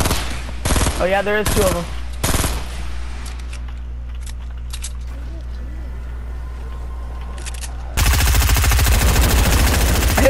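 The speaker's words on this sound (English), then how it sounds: "Start shooting at him." Gunfire in Fortnite during a duo match, heard as rapid bursts of shots with other game effects, a louder dense burst near the end, and players talking over it.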